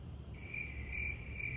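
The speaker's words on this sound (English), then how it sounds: "You could hear cricket." Crickets chirp steadily in a quiet spot, a thin high trill that pulses in a few short bursts, faint and somewhat distant over a soft low hum, with no talking.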